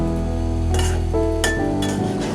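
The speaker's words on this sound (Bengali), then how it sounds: "একটু নেড়ে চেড়ে দিলাম।" Fried bottle gourd peel and potato being stirred in a pan with a utensil, producing a few bright metallic clinks and scrapes against a steady low frying hiss, close and clear with no talking.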